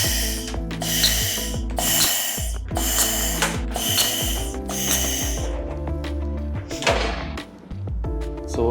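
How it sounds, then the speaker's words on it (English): A laser spot welding machine works on a 0.5 mm mild steel stiffener and a 0.7 mm front panel, firing about six sharp hissing bursts at even intervals over a humming tonal background before the pulses thin out and stop. "So as you saw, it is so effortless to weld."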